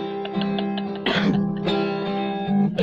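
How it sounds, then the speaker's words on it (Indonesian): A person coughs and clears the throat in a bad coughing fit, with a harsh burst near the middle and another rasp at the end over a steady tonal background, close and fairly loud. "Batuk teruk guys gitu."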